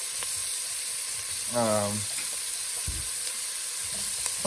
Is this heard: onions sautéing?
yes